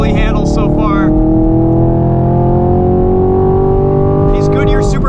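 A 2023 Chevrolet Camaro SS 1LE on a race track on Goodyear Supercar 3 tires, its V8 droning loud from the cabin as the pitch slowly falls and then climbs, with someone talking over it at the start and end.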